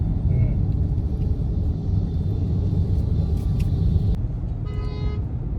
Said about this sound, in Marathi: जाम ट्रॅफिक लागले एकदम खतरनाक वाली